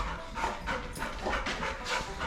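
Several dogs in a shed being converted to a house pant and whimper close by, a busy, breathy rhythm of quick pants and soft whines over a couple of seconds with no talk.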